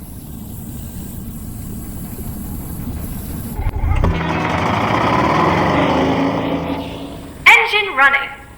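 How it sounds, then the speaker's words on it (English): Low rumbling gives way to a loud engine winding up and running steadily, a rough mechanical whir holding for several seconds before a sharp burst near the end, with voices mixed in. "Engine running."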